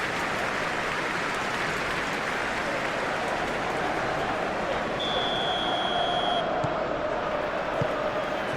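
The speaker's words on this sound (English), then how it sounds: "There's the whistle." A referee's whistle in a football video game, EFL Cup match between Newcastle United and Tottenham Hotspur, sounds as a steady tone of a couple of seconds over a constant stadium crowd roar.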